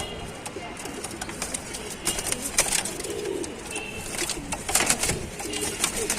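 Pigeons coo softly and repeatedly at a loft of breeding pigeons in Tanta, Egypt, mixed with wing flutters and rustling, while someone talks nearby.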